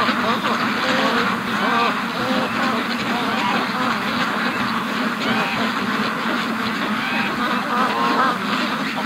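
Free-range ducks gathered on an icy lake quack continuously in a dense, busy chorus, fairly close and lasting throughout, while a person talks over them.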